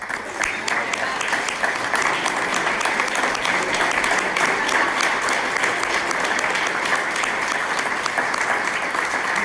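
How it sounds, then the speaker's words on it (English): Sustained clapping from a large audience at a scholarship luncheon, dense and even throughout, with some voices mixed into the applause. "Do you want to stand up and we can applaud you?"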